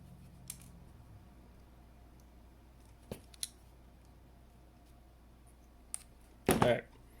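Scissors cut through wire in a few sharp, isolated snips spread over several seconds, ending in a louder crunching cut, all close and crisp over a quiet background.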